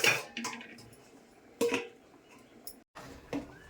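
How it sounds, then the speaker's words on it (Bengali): A lid is set on a cooking pot with a few sharp metallic clanks and scrapes spaced through a quiet moment, close and fairly loud. "আমি এখন ঢেকে দিচ্ছি।"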